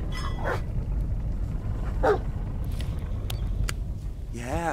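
Dog barking in the Blair Witch video game on PC, a few short barks and yips at medium distance over a low rumbling background, with a voice briefly.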